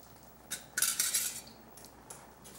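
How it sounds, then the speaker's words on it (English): A spoon scraping and clinking in a pot while grated cheese and garlic are stirred into grits, a few quick metallic scrapes in bursts with a longer stretch in the middle, close and moderately loud, no voices. "Stir it in there good."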